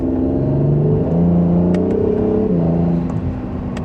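Acura NSX hybrid supercar in Sport Plus mode accelerating in second gear, a loud continuous engine note rising in pitch, dipping at a shift and climbing again, close and steady without talk.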